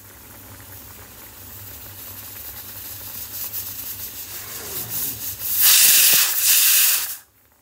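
A pressure cooker of mutton hisses steadily on the stove, the steam building slowly before a loud, sharp whistle bursts out for about two seconds and then cuts off abruptly.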